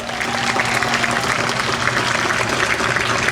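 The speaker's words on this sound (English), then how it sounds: "So please give my friend, Ms. Borders, a round of applause" A crowd at an outdoor civic bike-to-city-hall event claps for an honoree, giving brief, loud, dense applause that continues evenly over a faint low background hum.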